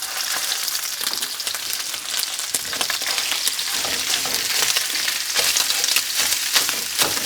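Pork sizzles loudly in hot oil in a pot for smoked brisket chili, a dense, steady crackle close by that runs the whole time with occasional stirring scrapes and no talking.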